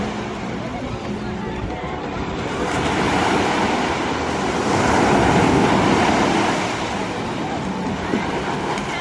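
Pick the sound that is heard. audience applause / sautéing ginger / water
water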